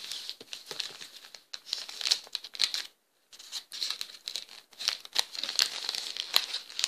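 Papery crinkling and tearing of a wrapped package, in irregular bursts with a brief pause midway, close and fairly soft.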